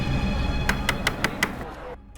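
A door is rapped five times in a quick, even series of loud close knocks during a tense search of a room, followed by near silence.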